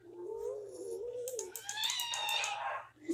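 Minecraft cats in a PC game session making cat noises: a rising and falling meow-like tone in the first half, then a brighter, higher chirping yowl near the end, at moderate loudness with no talk.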